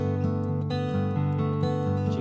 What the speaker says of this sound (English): Can you hear the lift? Here's a G2.